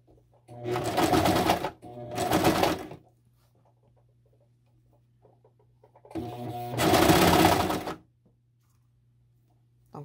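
A sewing machine stitches two-piece knit pajama fabric in short bursts: two quick runs close together, a pause with faint hum, then a longer run, loud and close with no talk.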